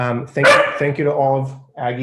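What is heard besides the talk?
dog barking during a meeting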